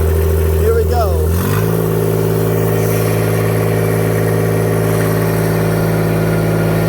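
John Deere 1025R tractor engine with a seized turbo removed, returned to stock: after a brief shift in pitch early on, it settles into a steady, loud, close low-RPM idle hum.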